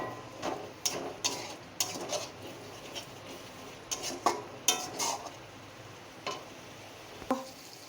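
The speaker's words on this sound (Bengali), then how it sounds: "অল্প পরিমাণে একটু জল দিলাম, দিয়ে একটু ভালো করে কষিয়ে নেব।" A spoon scraping and clinking against a pan as spice masala with a little added water is stirred and cooked down, irregular metallic taps and scrapes against a quiet background.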